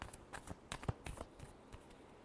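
Tarot cards being shuffled by hand in a quiet room, a faint series of quick papery riffles and soft slaps coming in uneven bursts, with no talking.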